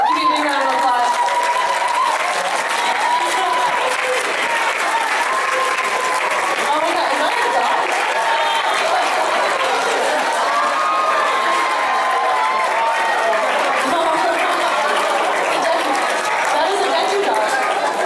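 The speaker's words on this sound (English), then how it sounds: "Give you a big round of applause" Audience applause at an anime convention panel for My Hero Academia at Anime LA 2019: dense, sustained clapping from a large crowd, with chatter mixed in throughout.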